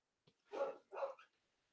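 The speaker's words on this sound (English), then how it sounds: "If you hear that dog barking" A pet dog shut in its cage at home gives two short, distinct barks in quick succession, faint and somewhat distant, with silence around them.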